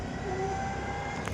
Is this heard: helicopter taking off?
yes